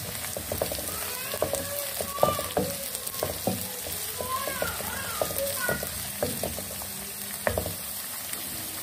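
Sliced onions go into a pan of potatoes already frying in oil, giving a steady close sizzle with scattered stirring scrapes and clinks throughout.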